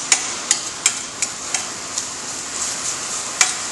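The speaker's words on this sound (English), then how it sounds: "So we're going to pre-cook the sausage until no pink remains." Sausage pre-cooking in a pan gives a steady bright sizzle, joined by regular light clicks of a utensil stirring against the pan, close and continuous without talking.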